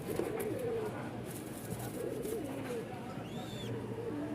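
Large caged pigeons for sale, including Lahori, Potter, Lotan and Bombay breeds, coo in soft repeated low phrases throughout, steady and fairly faint, with a brief higher chirp near the end and no clear talking.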